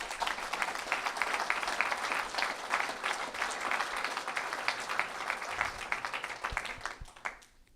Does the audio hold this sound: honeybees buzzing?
no